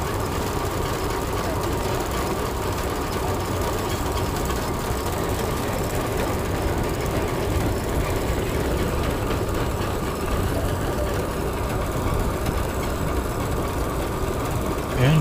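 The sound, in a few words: steam engine starting up and running, vintage threshing demonstration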